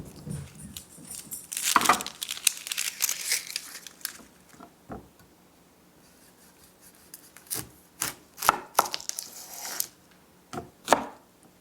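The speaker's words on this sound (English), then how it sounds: "I'm gonna get my onions sliced up." Onions being sliced with a knife on a board, a run of crisp close chops and rubs in bursts, with quieter gaps between them.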